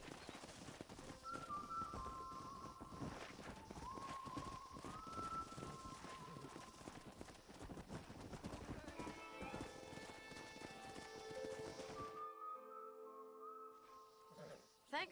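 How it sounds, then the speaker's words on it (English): Horses in Red Dead Redemption trot and gallop with continuous clip-clopping hooves, mixed with whinnies and game music tones, fairly quiet overall. "We got some fine horses."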